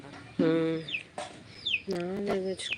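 A chicken clucks close by, giving several short, nasal, squawky calls in an uneven rhythm with brief pauses between them, loud and clear against a quiet rural background.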